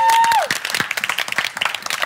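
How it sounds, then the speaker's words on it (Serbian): A studio audience at a TV entertainment show bursts into loud, dense applause for the choreographer and dancers, a continuous wash of many hands clapping close and full throughout. "molim vas jedan aplauz za Zileta, našeg koreografa, za dansere"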